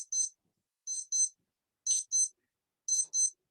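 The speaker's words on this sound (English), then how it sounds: "Oops, there's an alarm going off. It's a wristwatch." A wristwatch alarm sounding during an open mic night, four clear pairs of short high-pitched beeps repeating about once a second, alone and fairly close.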